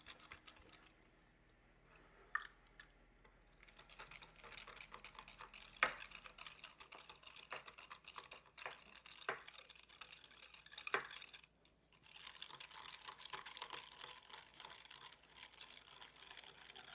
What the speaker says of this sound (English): Just whisking this together.